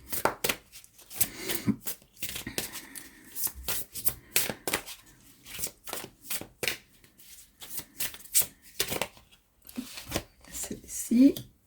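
Oracle cards from a hummingbird-wisdom deck are shuffled and drawn by hand, with repeated close papery flicks and riffles in bursts, while someone speaks in French between and over them.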